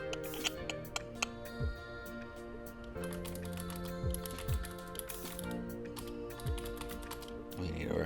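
Fast bursts of typing on a computer keyboard, with a steady clatter of key clicks and a few sharper taps, close and moderately quiet.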